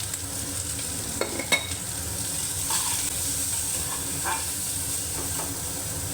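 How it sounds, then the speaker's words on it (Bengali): Brinjal slices with salt and turmeric fry in oil in a kadai, giving a steady soft sizzle and hiss, with a few sharp clicks of a spatula near the start and light scraping later. "ওই কড়াইতে আবার কিছুটা তেল দিয়ে বেগুনগুলো একটু নুন হলুদ দিয়ে ভেজে নেব"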